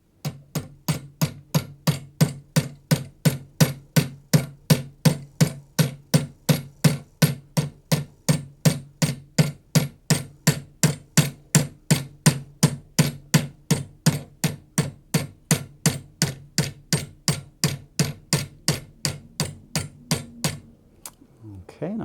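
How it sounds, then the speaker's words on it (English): Steady, evenly spaced hammer blows ring on the seam of a metal hair pin, dozens of sharp strikes in a regular rhythm, close and loud, then a brief pause at the end. "I really want to go slow and hammer directly on"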